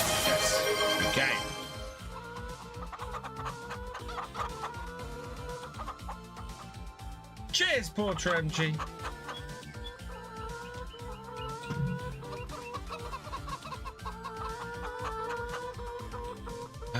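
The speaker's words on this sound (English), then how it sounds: "That's a lot of chickens." Farmyard chickens clucking in the Farming Simulator 25 video game, a continuous busy chorus of hens with repeated clucks throughout, heard under someone talking.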